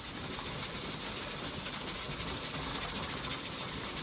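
A pressure canner vents a steady, continuous hiss of steam in a home kitchen during canning, holding an even level throughout with no speech.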